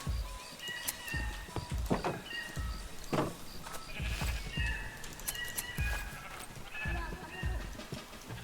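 Sheep in the Minecraft video game bleat repeatedly in quick succession, several overlapping calls close by, while someone talks over them.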